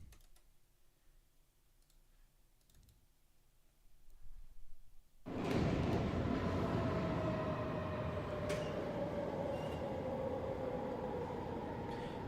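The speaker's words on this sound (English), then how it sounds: "This is a 420 series train." A 420 series train passing in Munich: near silence for about five seconds, then a sudden loud, close, sustained rumble and rattle of wheels on rails that continues to the end.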